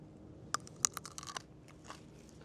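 Biting and chewing a crunchy cucamelon fruit fresh from a garden vine: a sharp crisp bite, then a quick run of close, wet crunching chews that fade toward the end, with no talking.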